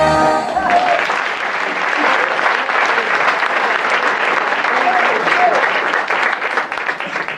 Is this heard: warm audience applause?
yes